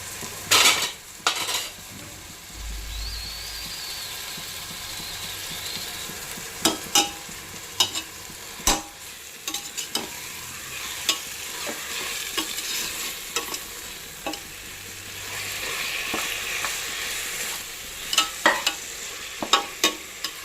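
Mutton keema being fried in a pan with tomato gravy, with steady sizzling under repeated clinks and scrapes of a spoon stirring against the pan, close and fairly loud, no talking.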